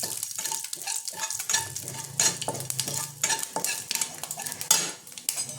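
Fish with chopped raw mango, mustard and radhuni spice sautéed in a pan, crackling and sizzling loudly while a utensil stirs and scrapes in irregular bursts, with no talking.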